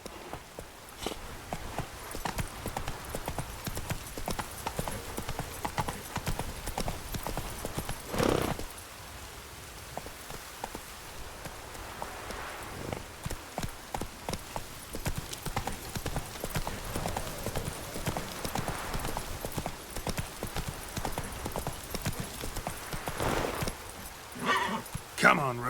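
Roach the horse galloping in The Witcher 3, with steady rapid hoofbeats pounding close and loud throughout, a brief break midway, and a voice urging the horse on.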